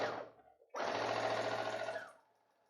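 A sewing machine sews a backstitch, starting with a short whir, pausing briefly, then running in a steady, close mechanical buzz for over a second before slowing to a stop.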